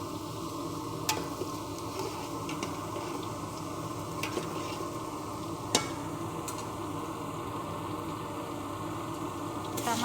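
Onions, green chillies and whole spices fry in hot oil in a pan, giving a continuous soft sizzle broken by a few sharp clicks as they are stirred.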